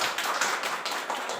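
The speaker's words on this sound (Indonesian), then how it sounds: "mohon tepuk tangannya" Bapak and Ibu in an audience applauding after a class presentation, a brief, fairly quiet patter of many hands clapping at a moderate distance, with no voices over it.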